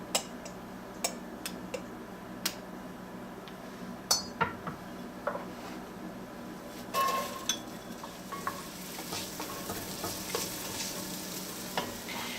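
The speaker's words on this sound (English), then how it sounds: "we're going to start with about 2 tablespoons of canola oil, and then we're going to sweat these onions" Chopped onions sweat over medium heat in about two tablespoons of canola oil in a Dutch oven, giving a steady low sizzle with scattered stirring clicks and light utensil taps throughout.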